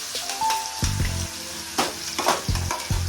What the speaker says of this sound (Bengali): এখন আমি পুদিনা, ধনেপাতা বাটা এগুলো সব, রসুন আদা সব পেস্ট করে আমি দিয়ে দিচ্ছি